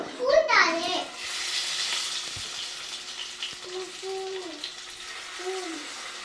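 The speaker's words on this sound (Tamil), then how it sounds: "இப்போ மீன் பொறிச்சிக்கலாம் இப்போ வந்து ஃபிஷ் பொரிக்கிறதுக்கு பார்த்தீங்கன்னா கொஞ்சமாக எண்ணெய் ஊற்றிருக்கேன்" Fish shallow-frying in a little oil in a home kitchen pan gives a steady, close sizzling hiss with a louder crackle at the start, while a voice talks over it.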